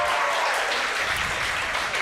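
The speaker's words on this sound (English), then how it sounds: "We need some applause from the audience." A crowd at an indoor percussion and winterguard show held at a Buffalo Wild Wings applauds performers being introduced, producing steady, loud, dense clapping with some cheering that carries through the whole brief moment.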